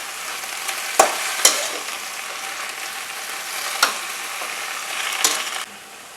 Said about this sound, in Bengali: আমরা লাউ শাকটা একটু ভালো করে নাড়াচাড়া করে নিয়েছি